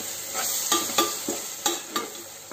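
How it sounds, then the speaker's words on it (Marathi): Coriander and mint leaves being stirred into a frying masala for prawn biryani, a constant sizzle broken by about five sharp scraping stirs of a spoon against the pan, close and clear with no talking. "हे बघा कोथिंबीर आणि पुदिन्याची पानं छानपैकी मी मिक्स आउट करून दिलेले आहे"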